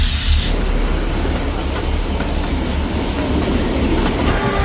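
A train rumbles past close by near Matheran hill station during the monsoon, a continuous loud roar with rhythmic clacking of wheels on the track and no voices.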